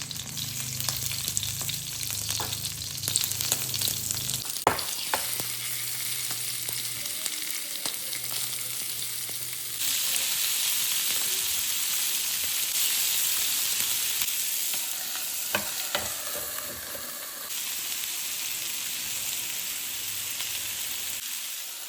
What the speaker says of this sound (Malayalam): ആ സമയം കൊണ്ട് നമുക്ക് മത്തി ഒന്ന് ഫ്രൈ ചെയ്തെടുക്കാമെന്ന് വിചാരിച്ച്.